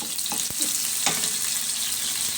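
Tomatoes and white onion sautéing in a pan, a close, steady sizzle broken by a couple of sharp stirring clicks.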